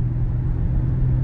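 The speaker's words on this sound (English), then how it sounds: "LA traffic" Steady low rumble of road traffic on a busy Los Angeles road, heard continuously from inside a car with no breaks or distinct passing vehicles.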